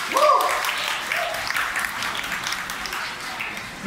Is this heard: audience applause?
yes